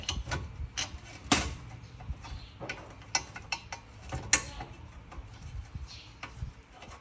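Nuts being tightened on car ABS brake parts in a repair shop, a series of close, irregular metallic clicks, ratchet ticks and small clanks at varying loudness.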